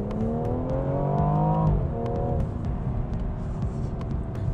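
A 2019 BMW M240i inline-six engine revs up with a smooth, rising tone that climbs, then drops after a gear change and settles into a steady, loud drone.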